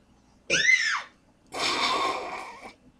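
Two loud, high-pitched cartoonish screams in the Tasty Planet Forever video game, the first a short rising-and-falling shriek and the second a longer, harsher scream after a brief pause, with no talk over them.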